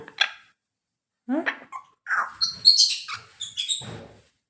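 A dog whines and yelps in several short, high-pitched bursts with brief pauses between them, fairly quiet.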